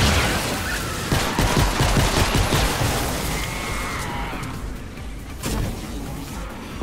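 Rapid gunfire crackles in Fortnite from the upgraded Founder's Pistol, a dense flurry of repeated shots over game ambience, loud at first and thinning toward the end.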